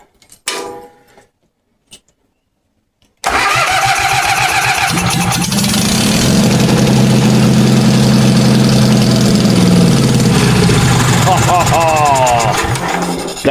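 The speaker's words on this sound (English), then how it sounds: "So we know Crusty Rusty runs." A Wheel Horse C-175 mud mower's old engine cranks, catches and runs loud and close, a steady throbbing drone that continues to the end after brief quiet sputters at the start.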